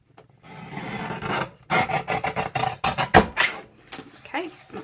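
A trimmer cuts through packaging for a junk journal, giving a series of rasping, scraping strokes in irregular bursts, close and fairly loud.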